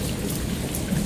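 Thunderstorm in Lufkin, Texas, with dense steady rain and low rumbling thunder, loud and close, filling the whole moment with no voices.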